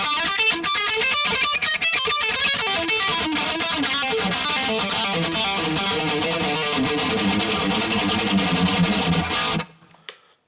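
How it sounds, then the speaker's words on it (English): An electric guitar played through a Quad Cortex Mudhoney preset with a Klon overdrive in front rings out as a thick, distorted run of strummed chords and notes, then cuts off abruptly near the end. "This is the Mudhoney with the Klon in front of it."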